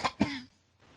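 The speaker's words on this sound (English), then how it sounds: "with that cough, I guess you're not" A person coughs twice close to the microphone, two short rough bursts followed by near silence.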